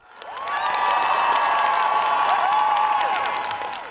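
A large crowd in Prague rallies in support of Ukraine, cheering and whooping loudly in a sustained roar that swells in and holds steady, with high voices ringing above the mass of sound.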